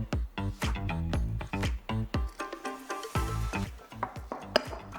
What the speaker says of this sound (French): dans un grand bol, mélangez 200 g de compote de pommes